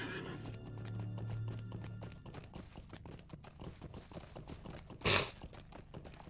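Steady clip-clop of horse hooves trotting at an even rhythm in the video game Lord of the Rings Online, with a sharp burst of noise near the end.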